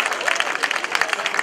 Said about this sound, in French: On peut les applaudir parce qu'ils ont bien travaillé